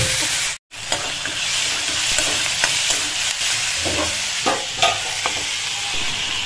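Colocasia (taro) pieces fry in a pan, a loud steady sizzle with scattered scraping stir strokes and a brief dropout near the start.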